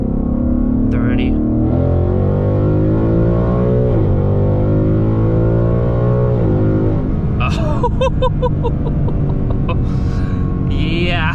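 A Ford Mustang GT in track mode accelerates hard from inside the cabin, its engine note climbing in pitch through gears with brief drops at each shift, loud and continuous, with voices talking over it near the end.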